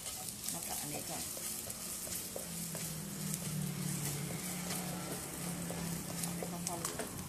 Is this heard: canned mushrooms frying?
yes